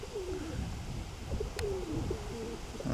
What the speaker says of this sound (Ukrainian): Це лахманогий, 19-й голуб